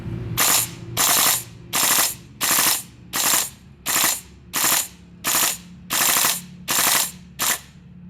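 A GHK M4 Devilhunter airsoft rifle, gas-powered on one fill, fires a magazine in about eleven loud, evenly spaced full-auto bursts, each a rapid mechanical rattle with brief pauses between.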